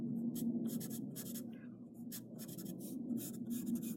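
Pencil scratching across paper while drawing graffiti letters, a steady close rasp in repeated strokes of varying length over a low constant hum, with no talk.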